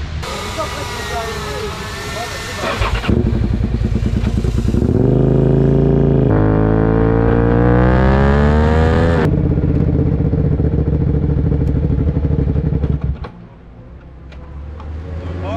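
A 125cc racing motorcycle with a power-loss fault revving hard on a power test run, loud sustained engine roar climbing and falling through the revs for about ten seconds before dropping to a lower idle.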